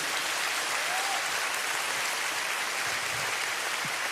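A large church congregation applauds together, a dense, steady wash of clapping that holds at full strength throughout with no voices over it.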